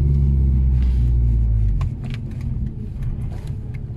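A 240 hp Mazda RX-8 rotary engine idles with a deep, loud exhaust rumble, then drops to a rougher, quieter burble partway through.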